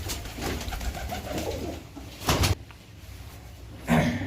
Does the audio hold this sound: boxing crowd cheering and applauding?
no